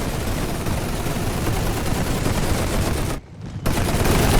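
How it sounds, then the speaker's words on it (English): Massed machine gun fire from a WWI strategy game, The Great War, rattles in a dense, loud, unbroken barrage, briefly cutting out to near silence before resuming just as heavily. "Sounds like they have another group of machine guns."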